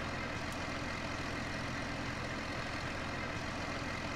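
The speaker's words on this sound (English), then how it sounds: "I'll go park the tractor at the other end while we go cut the grass" A tractor engine drives along in Farming Simulator 2013, a steady, dense rumble with a low, even throb that holds at the same loudness throughout and no voices.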